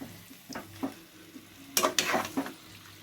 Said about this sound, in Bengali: মাটনটা ভালো করে মিশিয়ে নিচ্ছি মশলার সাথে। খুব ভালো করে কুক করতে হবে কিন্তু এবার।